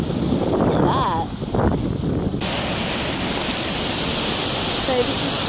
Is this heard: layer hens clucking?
no